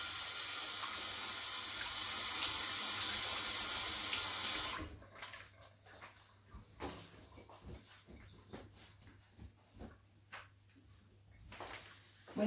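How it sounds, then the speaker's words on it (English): Water runs steadily from a tap during handwashing, a loud continuous rush for about five seconds, then cuts off, leaving quiet clicks and soft handling noises. "We have to wash our hands to make sure there's no germs on our hands to get in the food"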